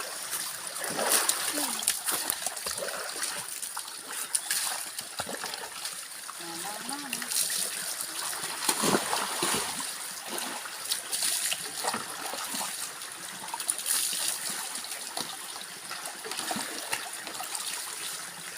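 Children bathing outdoors in a provincial stream, splashing and trickling water throughout, with lively talk and shouts mixed over the steady water noise.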